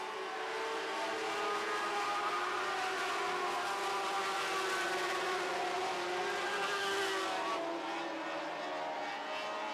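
Lightning sprint race cars roar around Red River Co-op Speedway in a continuous dense engine drone, loud and sustained, with pitch rising and falling slightly as the pack circulates.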